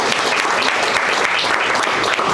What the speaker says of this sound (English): Round of applause for this.